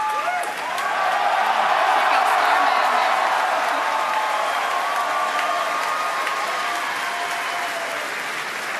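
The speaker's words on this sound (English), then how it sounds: "if you can hear all that cheering" A large crowd claps and cheers loudly and steadily after the Falcon Heavy rocket test flight in February 2018, with the applause sustained for the whole stretch.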